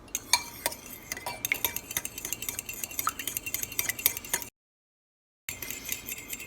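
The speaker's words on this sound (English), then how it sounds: "I'm just gonna stir all that together." Semi-sweet white bread dough ingredients stirred together in a bowl, a spoon scraping and clinking against the sides in quick, uneven strokes up close, with a brief pause near the end before the stirring resumes.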